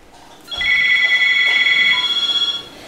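A telephone rings once with a steady electronic warble, loud and close, lasting about two seconds before cutting off.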